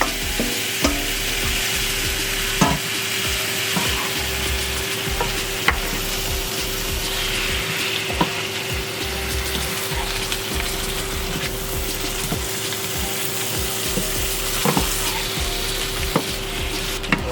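Curry peas and aloo cooking in a pot, a steady close sizzle and bubbling with occasional small clicks and stirring knocks, no talking.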